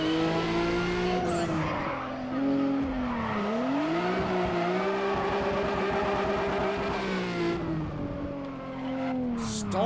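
Race car in Need For Speed ProStreet drifting into a hairpin: a loud, sustained engine roar with shifting revs and tire squeal runs throughout, close and alone without talk.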